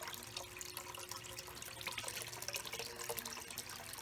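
Steady rushing water pours through a gold paydirt sluice, a continuous close splashing flow with no voices.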